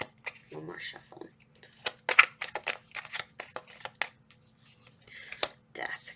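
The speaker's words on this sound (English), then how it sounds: "One more shuffle." Tarot cards are shuffled by hand in a string of crisp riffling and flicking bursts, close and fairly quiet, with brief gaps between.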